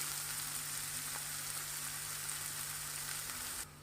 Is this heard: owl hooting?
no